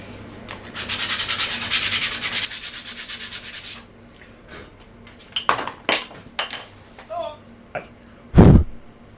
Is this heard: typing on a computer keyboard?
no